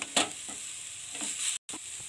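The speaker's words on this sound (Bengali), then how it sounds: "সব সবজিটা ভালো করে নেড়ে নিলাম।" Vegetables being stirred in a pan for veg patisapta filling, a soft sizzle with scraping strokes of a spoon at an irregular pace, close and fairly quiet, with a brief dropout near the end.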